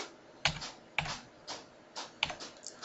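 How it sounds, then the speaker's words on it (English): Sharp mechanical clicks from a printer printing a hard copy repeat every half second or so, each followed by a brief whirring rattle, close by and with no voices. "you hear my printer clicking off a hard copy"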